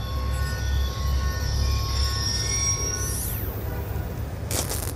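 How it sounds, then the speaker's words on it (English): A train passes in the shooter game Call of Duty: Black Ops II: a loud, steady rolling rumble with high squealing wheel tones, a sweeping whine midway and a sharp burst of noise at the end. "Ain't getting anything else with that train in the way."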